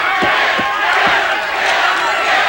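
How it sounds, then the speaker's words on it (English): A boxing arena crowd chants in unison through a bout between Jeff Mayweather and Todd Foster, with rhythmic low thuds pulsing steadily under a dense roar of many voices. "Crowd taking up the chant, kid, kid."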